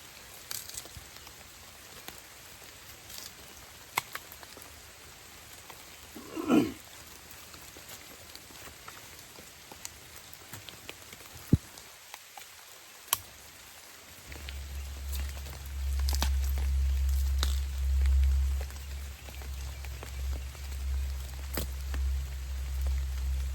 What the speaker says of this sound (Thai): ฝนตกเปียกไปแล้ว